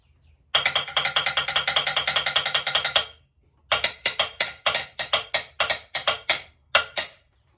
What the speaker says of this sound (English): Let's listen to the wooden stool.